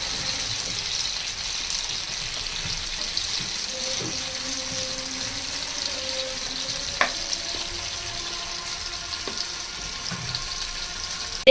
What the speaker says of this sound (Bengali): এভাবে চুলার তাপটা মিডিয়াম আঁচে রেখে টমেটোগুলো ভেজে নিতে হবে